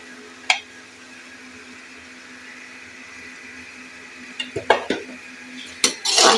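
Masala kaleji (liver) stir-fries in a pan, giving a steady low hiss, then a cluster of sharp spatula scrapes and clanks against the metal near the end.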